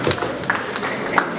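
Wedding guests applaud as people return to their seats, with scattered, uneven hand claps close by over a low murmur of voices.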